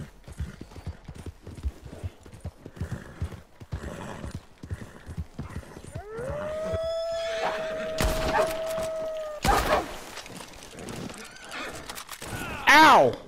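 A horse in the Red Dead Redemption 2 video game whinnies loudly and shrilly after a stretch of clip-clopping hooves, with a thud and a second neigh following, amid game sounds and some speech.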